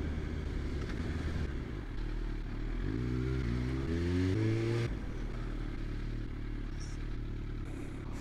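Rush hour road traffic heard from a motorbike: a steady engine drone with a rising vehicle pass midway, a continuous moderate rumble throughout.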